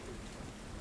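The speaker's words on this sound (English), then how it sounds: "There's plenty of rain outside to mask the sound of you as you step in." Rain and thunderstorm ambience for a tabletop roleplay scene, a faint, dense hiss of steady rainfall with a low rumbling undertone, brief and unbroken.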